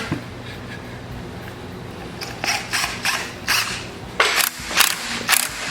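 Ratchet on a long 3/8 extension with a 10 mm socket tightening a clamp on a Kawasaki FD590V water-cooled engine, a few bursts of close, crisp clicking strokes over a steady background hum.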